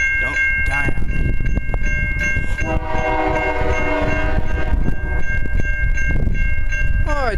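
A Union Pacific locomotive leads an ethanol freight train along BNSF track, sounding a loud, sustained multi-tone horn over the rumble of the passing train, with wind buffeting and brief talk nearby.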